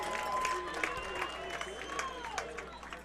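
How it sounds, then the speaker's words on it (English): A crowd in the stands at a high school football game, Fredericktown against Perryville, roars in a steady, dense wash of cheering and clapping with scattered shouts and a few whistles, voices mixed throughout. "Gives the crowd something to cheer about."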